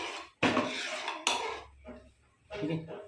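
Metal utensil scraping and clattering around a cooking pot while butter is stirred, in bursts of loud clanking separated by short pauses, close and sharp.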